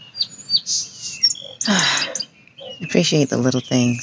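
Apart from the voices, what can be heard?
birds chirping outdoors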